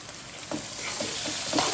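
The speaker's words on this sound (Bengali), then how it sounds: "এলাচি, লং, দারচিনি দিয়ে দিলাম, তেজপাতা একসাথে ভাজা ভাজা হোক।" Whole spices, cardamom, cloves, cinnamon and bay leaf, frying with tomato and green chili in a pan, giving a steady close sizzle with a few soft stirring scrapes and no talking.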